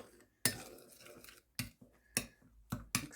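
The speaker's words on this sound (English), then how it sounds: "I'm going to give it a little stir" Spoon clinking against a bowl while stirring a honey mixture for English muffin bread, five or six sharp taps spaced irregularly with soft scraping between them, close and quiet.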